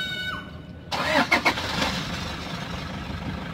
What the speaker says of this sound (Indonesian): Kita coba hidupin mesin, Bang.